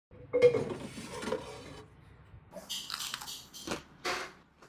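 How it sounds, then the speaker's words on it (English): Crisp crunching bites into air-fried Gujarati ghugra, a laminated Indian pastry, come close and dry, with short crackly bursts separated by quiet pauses. "Now we'll try the air fried ghugras"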